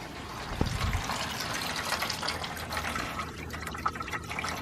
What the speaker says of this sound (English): that hose will drain your radiator.